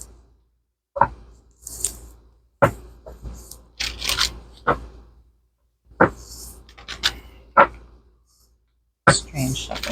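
Tarot cards being shuffled in short riffling bursts and soft slaps, irregular and close, with brief pauses between handfuls.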